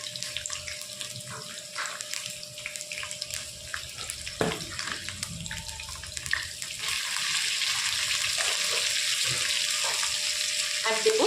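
Potato pieces fry in hot oil with a little salt and sugar, a soft, crackling sizzle that grows louder and denser toward the end, with faint clinks over it.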